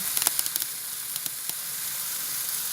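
Tomatoes and garlic stir-frying in a pan give a steady close sizzle, with a cluster of sharp clicks and scrapes near the start and a few more spaced out later.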